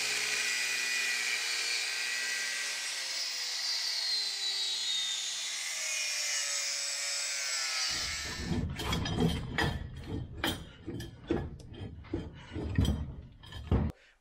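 Power cutting tool slicing through seized bolts on the front end of a 1966 Ford Mustang; a steady high-pitched grinding whine runs for about eight seconds, then gives way to loud, rhythmic bursts of cutting and rattling, close up.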